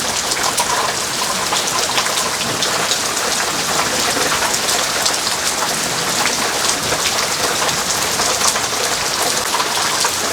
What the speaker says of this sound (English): So yesterday we finally got rain.